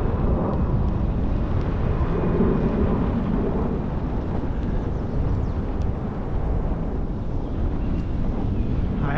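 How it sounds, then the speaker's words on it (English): Strong wind buffets a microphone outdoors beside a road, a continuous loud, low rumbling roar with gusty fluctuations and no other sounds standing out. "let's get out of this wind"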